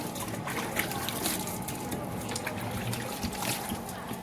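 Water runs from a tap in a continuous trickling splash, steady and fairly close, with people talking faintly in the background.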